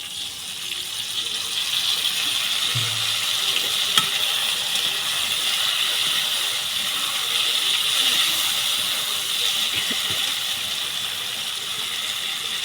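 Ground spice paste sizzles in hot oil while potol doi cooks, a steady bright hiss that holds evenly across the whole stretch, close and moderately loud with no talking.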